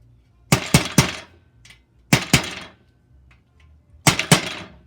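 Three pairs of sharp hammer blows ring out as an IKEA SEKTION connector piece is hammered into the groove of a rail, each a loud double knock on hard material with short pauses between, close and unaccompanied by talk.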